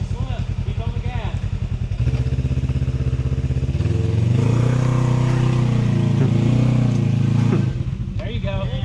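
An off-road vehicle engine climbs a steep dirt trail at Windrock, revving hard and loud, dropping briefly and then surging into a sustained high roar, with a voice calling out directions over it.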